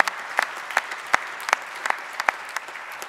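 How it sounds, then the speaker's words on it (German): Sparse applause from a small share of the audience at an AfD party program convention in Berlin, a handful of separate, fairly loud claps spread unevenly across a quiet hall. "Ich rede in den Applaus immer rein"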